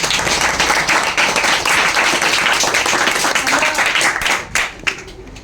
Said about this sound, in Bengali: মাস্টারমশাইকে হাতের তালি দিয়ে স্বাগত জানাই